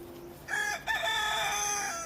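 Chicken in an outdoor enclosure, a single loud, close crow following quieter background ambience.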